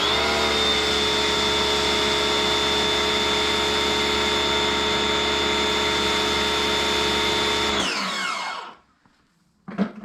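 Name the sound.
Sun Joe pressure washer running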